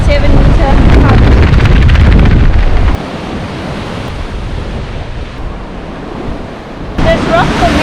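Ocean waves crash and wash against the rocky coast at Storms River, loud and continuous, with strong wind buffeting the microphone and a fresh surge of surf near the end.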